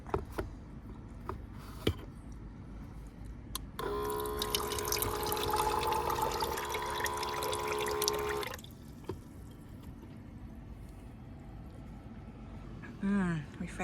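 A faucet runs for several seconds, a steady rushing of water that starts abruptly and stops, with quieter background noise from heavy rain before and after.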